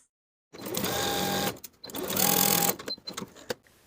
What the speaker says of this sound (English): Sew the dart in place from the top to the point, leaving thread tails at the point so you can tie it in knots.